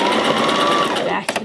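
A sewing machine runs steadily while stitching a fleece lining into a beanie, a continuous close whirring that stops abruptly near the end with a few brief clicks.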